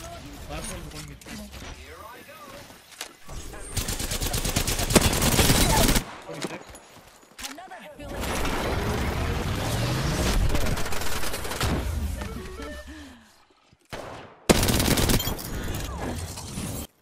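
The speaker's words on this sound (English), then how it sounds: "they're actually right here. They're shooting." Sustained automatic gunfire in the video game Apex Legends, with long bursts of rapid shots from enemies nearby, broken by brief pauses and a sharp burst near the end, while a player talks over it.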